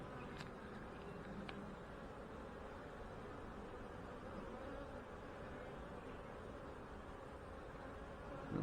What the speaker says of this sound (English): See a bunch of new bees.